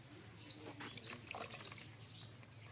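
Water splashes and trickles as it is poured into a thick mixture of buffalo or cow dung being prepared for a biogas plant, a short, soft, close pouring sound without speech.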